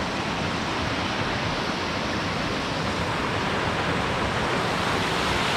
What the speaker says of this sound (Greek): Αυτό είναι το φαράγγι του Ενιπέα, με τους καταράκτες του Ενιπέα, μέσα στον Όλυμπο.